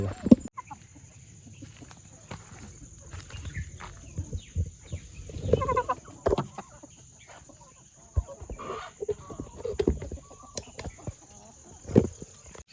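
Hens with eye disease (coryza) cluck in short, scattered bursts at close range, with quiet stretches between and a faint steady high whine underneath.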